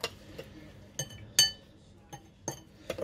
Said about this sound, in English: My mom is stirring it.